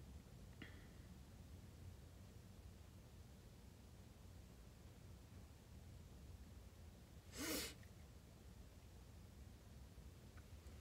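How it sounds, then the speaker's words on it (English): A single short, sharp sneeze sounds from a person doing makeup inside a parked car, standing out briefly against a quiet, steady background hiss. "I'm about to sneeze"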